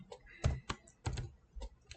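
Someone types a command in Wolfram Mathematica on a computer keyboard, with a few soft, irregular key clicks in quick succession, quiet and close.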